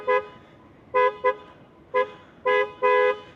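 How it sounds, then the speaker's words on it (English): A BYD eMAX 7 electric MPV's horn honks six times, loud, close and clear, in short beeps and longer blasts with gaps between them. "Very nice horn, quite loud and clear"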